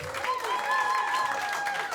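An audience at a comedy show applauds the acts, a steady wash of clapping with a voice carrying over it throughout.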